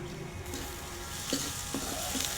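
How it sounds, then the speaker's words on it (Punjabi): Onions frying in a kadai, a steady hiss and sizzle of oil throughout with a few soft stirring scrapes. "ਲਓ ਜੀ ਆਪਣੇ ਪਿਆਜ਼ ਭੁੱਜ ਗਏ ਆ"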